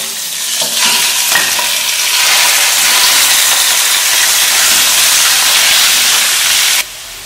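Pork ribs fry in oil in a pan, giving a loud, steady sizzle and hiss that holds for several seconds and then drops off abruptly near the end.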